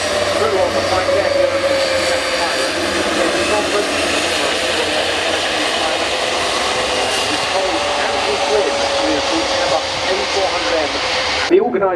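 Military aircraft at the Royal International Air Tattoo air show, a loud continuous engine roar that stays steady throughout under an announcer's voice over the public address.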